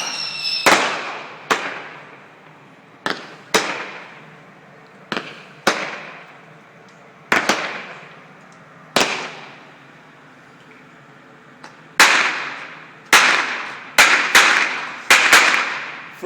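Fireworks going off on a beach at night, a string of sharp firecracker-like bangs at irregular intervals, each with a decaying tail, the bursts bunching closer together near the end.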